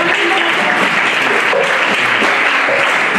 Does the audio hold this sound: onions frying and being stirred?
no